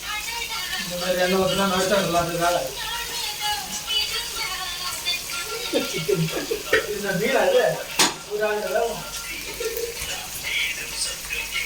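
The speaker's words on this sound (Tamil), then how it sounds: "நல்லா பொறிச்சு நல்லா அது கொதிச்சுக்கிட்டு இருக்கு" Chicken frying and sizzling in oil, a steady hiss with stirring and scraping sounds, under a person talking throughout.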